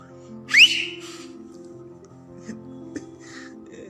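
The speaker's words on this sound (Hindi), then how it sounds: "सीटी मार के देखो हम।" A person gives one short, sharp rising whistle that stands out loudly, followed by quieter sounds over a soft, steady tonal background.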